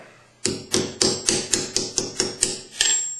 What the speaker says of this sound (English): I simply pound that rivet shut and add the other rivet and do the same thing